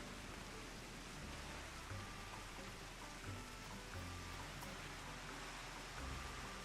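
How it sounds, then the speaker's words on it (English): Heavy rain falls in Final Fantasy XIV, a faint steady wash of dense rainfall with soft low thumps scattered through it. "This is kind of the rain I love. Heavy rains."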